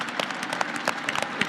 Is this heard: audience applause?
yes